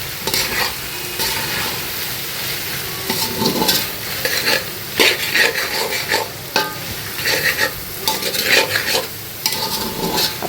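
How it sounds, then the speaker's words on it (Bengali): Beans, carrot and capsicum sizzle loudly in a pan while a utensil stirs and scrapes them in busy bursts, the frying hiss continuous and close, with no voices. "সব একসাথে এখন সবজিগুলো আগে ভেজে নিব"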